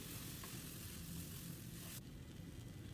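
Chicken filling for bacang, seasoned with soy sauce, sizzles in a pan as it is stirred, a steady crackling hiss that suddenly thins and quietens about two seconds in. No talking.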